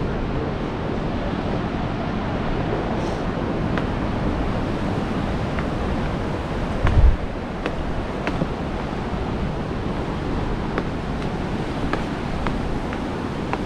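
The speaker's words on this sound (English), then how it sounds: "watch those waves crashing" Waves crash against coastal cliffs at Storms River Mouth in Tsitsikamma National Park, making a continuous roar of surf and wind rumble, with one brief heavier thump partway through and no voices.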